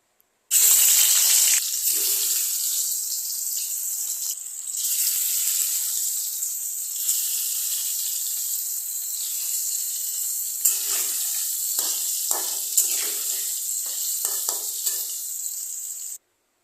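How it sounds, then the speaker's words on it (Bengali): Steady, continuous sizzling of fish frying in hot oil in a kadai, close and fairly loud, with a few soft clinks and scrapes near the end and no talking. "তো আমি এখন কড়াইতে তেল দিয়ে দেবো, মাছগুলোকে আগে ভেজে নেব"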